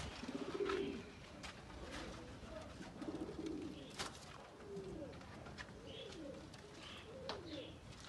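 Qasoori Golden Kamagar pigeons coo softly in a loft in Faisalabad, with low repeated throaty calls rising and falling over a steady background hum.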